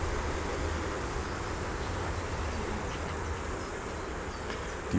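Honey bees fan at a Franken-Beute hive during an inspection with the upper honey box removed, a dense, continuous buzzing drone, near and steady without speech.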